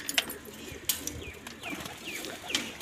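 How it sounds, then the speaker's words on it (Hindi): Pigeons at a Pakistani pigeon-flying loft give soft, low cooing against a faint outdoor background, with a few brief sharper chirps and wing flutters scattered through. "ये माशाल्लाह से इनके कबूतर हैं सारे"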